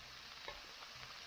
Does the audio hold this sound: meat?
yes